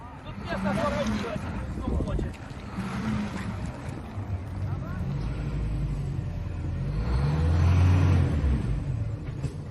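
A bus grinds through deep mud on rough country roads in wartime Ukraine, its engine a steady, heavy rumble with wind buffeting the microphone throughout; the drone swells louder toward the end.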